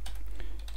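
Rapid typing on a computer keyboard during a PHP coding session, with close, irregular key clicks in a quick burst and no talking.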